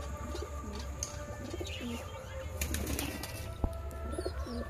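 Several pigeons coo in soft repeated phrases close by, with young birds that are strong fliers. Occasional chirps and a brief wing flap rise over a steady low background hum.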